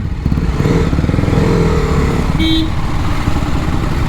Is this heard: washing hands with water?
no